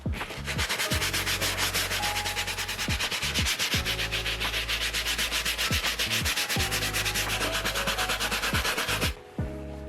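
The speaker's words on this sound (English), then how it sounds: "Now I will apply conditioner to the brush to get into these seams and harder to reach areas." A brush works conditioner into the seams of a vintage leather jacket, making a close, rapid, continuous scrubbing and rubbing with regular strokes that stops just before the end.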